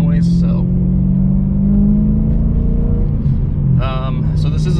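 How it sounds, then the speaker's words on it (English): A BMW E92 M3's S65 V8 engine rumbles and revs with a deep exhaust note, while someone talks over it close by. "Nothing beats the S65 sound or the exhaust noise."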